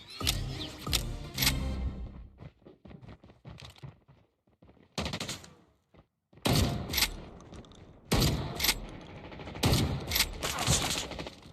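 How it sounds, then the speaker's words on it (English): Gunfire in the mobile shooter Call of Duty Mobile during a battle royale match: loud rapid automatic bursts and single shots in clusters, with a brief quieter gap midway, no talk. "Trying to shoot him, man. Call of Duty Mobile did not want me to get that kill."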